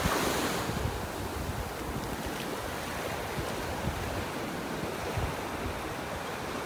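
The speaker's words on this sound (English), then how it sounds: "I'm almost walking directly into the wind here" Strong wind buffets the microphone on a beach walk in North Naples, Florida, with surf rolling underneath; a steady, loud, roaring rush persists throughout with no talking.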